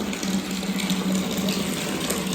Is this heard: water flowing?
yes